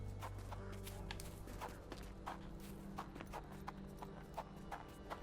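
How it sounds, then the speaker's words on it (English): Horse hooves clip-clop at a steady walking rhythm in the video game Sherlock Holmes: The Awakened, a string of crisp, fairly close knocks over a soft background bed. "A horse."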